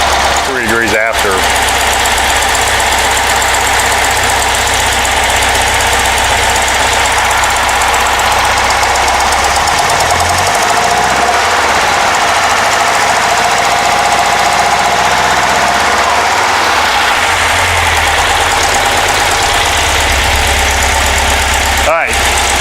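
A rebuilt Porsche 912 engine runs loud and close after start-up, with a rough, knocking idle and a steady low throb that holds for over twenty seconds, exhaust leaks adding a ragged edge.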